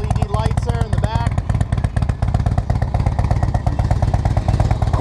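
Custom 2006 Harley-Davidson Road King engine idling with a loud, close, lumpy potato-potato thump, the beat steady throughout while someone talks briefly over the start.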